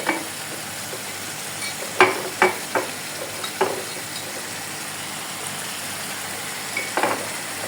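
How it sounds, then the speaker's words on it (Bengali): Meat frying in a pan with chili powder, ginger, onion and garlic paste, a steady sizzle throughout with several sharp scraping stirs of a spoon, close and fairly loud. "মরিচের গুঁড়োটা দিয়ে এটাকে নাড়াচাড়া করব।"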